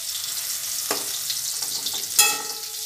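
Potatoes frying in hot oil for a gati kochu curry: a steady, bright crackling sizzle up close, with a small clatter near the middle and a sharper pop toward the end, no voices.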